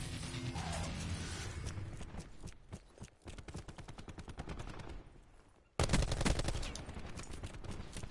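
DMR rifle fire in a video game: loud, rapid volleys of shots crackle almost continuously, dip briefly, then return even harder near the end, with no talking.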